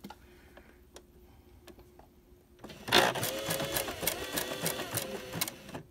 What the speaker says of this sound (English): then stitch with this opening right down the middle of your presser foot